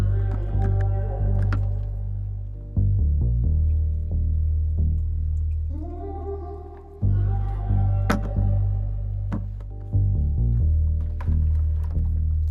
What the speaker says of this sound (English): so I'm just gonna top it off with fresh water.